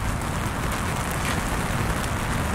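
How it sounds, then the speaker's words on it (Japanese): Steady rain falls on a November morning, a dense, even hiss of drops on surfaces that holds constant throughout, with no voices. "そして雨です。"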